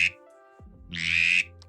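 A duck call blown to imitate a drake mallard's whistle gives a short burst, then a longer breathy whistled tone, with a faint low rumble underneath and a brief click at the end.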